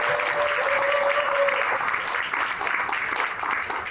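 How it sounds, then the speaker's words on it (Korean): Energetic audience applause at a church reform group's twentieth-anniversary ceremony, sustained dense clapping at even volume, with a brief tonal whistle or feedback in the first second and a half. "다시 한번 힘찬 박수"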